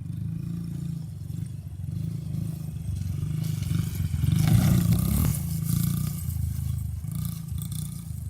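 A small 50cc dirt bike engine runs steadily at a low, buzzy drone, swelling louder for a few seconds as it revs mid-way before settling back, heard close and without talk.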